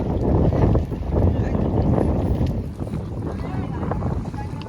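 A fishing boat comes into Vashi harbour in wind and rain, with a loud, close, steady engine and water rumble and heavy wind gusts blowing across the microphone throughout.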